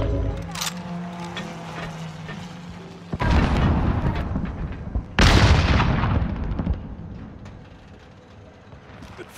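A frag grenade blast and further booming explosions in Call of Duty: Modern Warfare, two heavy broadband bursts a couple of seconds apart with long rumbling decays, over background game noise.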